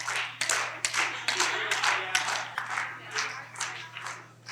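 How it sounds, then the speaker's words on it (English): Children in a summer school classroom game clap their hands in bursts of close, sharp claps with a steady hum underneath. "Solomon says, continue clapping."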